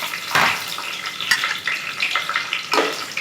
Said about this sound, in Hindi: इन्हें थोड़ा तड़कने देंगे